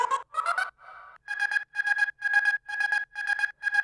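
A hover synth layer from a remix, pulsing in short, evenly spaced bursts with a bright, buzzy tone, loud and alone.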